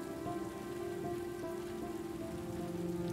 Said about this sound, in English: Let's wait out the rain in the booth.